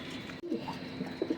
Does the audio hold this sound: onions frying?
no